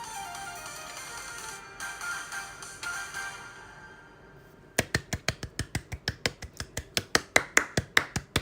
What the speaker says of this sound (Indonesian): Tepuk tangan sendiri aku.